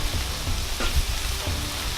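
Seafood stir fry sizzles steadily on a Blackstone griddle as Asian street food, a continuous close frying hiss with a few soft scraping clicks of stirring.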